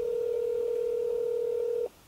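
A telephone ringback tone heard while calling someone: one steady, unbroken electronic tone lasting nearly two seconds before cutting off abruptly, clear and alone.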